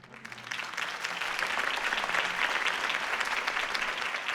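Crowd applause in a video game bursts out and swells, holding steady, dense clapping filling the space.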